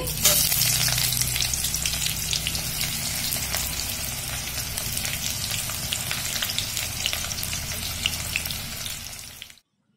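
Chopped onions hit hot oil with bay leaves, dried red chillies, garam masala and whole cumin, giving a loud, steady, close sizzle with crackling spatter that holds for about ten seconds before cutting off abruptly.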